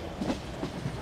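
A Mumbai local train rolls past in a Train Simulator PC game with a continuous rumbling clatter and rhythmic wheel knocks. The sound stays fairly loud and close throughout, with no talking.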